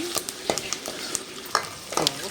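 Curry leaves, onions and turmeric fry in a pan for a tomato and greens curry, with a spoon scraping through them in several separate strokes over a soft, steady sizzle.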